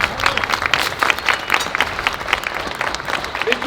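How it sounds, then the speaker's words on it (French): An audience at a costumed siege re-enactment in Metz breaks into a short burst of dense, lively applause, many hands clapping together close by, with voices mixed in. "On peut encore les applaudir."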